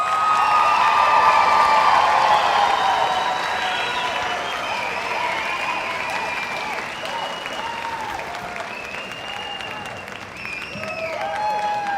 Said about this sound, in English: So let's give the class of 2023 another round of applause.